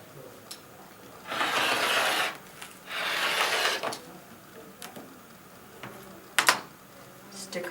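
A rotary cutter slices a 1 1/2 inch quilting fabric strip for a bargello quilt, making two quiet rasping strokes followed by a few soft clicks and taps.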